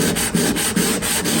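Hand sanding an Art Deco burlwood cabinet's wood veneer with coarse 80 grit sandpaper, quick rhythmic back-and-forth scratchy strokes, about six passes, close and crisp with no talking.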